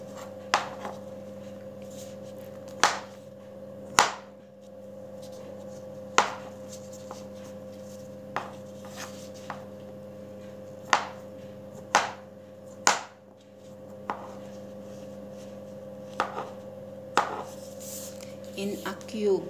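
A knife cuts food into small cubes on a board in steady, sharp taps spaced a second or so apart, with a constant hum underneath.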